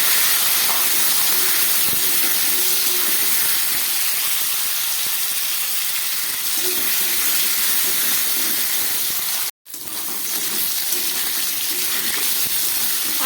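Potato, brinjal and pumpkin pieces fry in hot oil with two bay leaves and green chillies, giving a loud, steady hiss and sizzle that runs throughout, with a brief dropout near the end.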